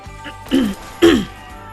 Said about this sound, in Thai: อาจจะกระแอมบ่อยนะ